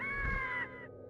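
A single cartoonish cat meow from an orange kitten in the video game Glover, loud and close, fading quickly with no talk.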